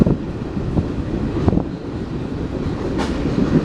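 A long freight train rolls past on rough, poorly maintained track, its cars rumbling steadily with periodic clanks and jolts as wheels strike bad joints, loud and close amid wind buffeting the microphone.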